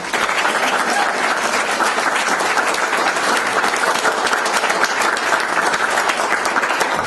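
Dense, steady applause from an audience at a candidate night, sustained loudly and evenly throughout the room, with no individual voices standing out.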